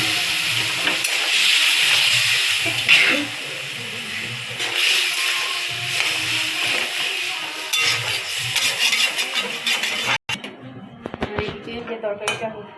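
Vegetable curry, a vegetarian dish seasoned with Maggi masala, hisses and sizzles loudly in a pan once water is poured in. The sizzle holds steady for about ten seconds, then breaks into scattered clinks and scrapes of utensils against the pan.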